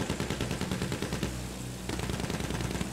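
Rapid automatic gunfire from the video game Battlefield 1 during tank combat rattles out in dense, continuous bursts, loud and close, with a brief lull before the firing resumes.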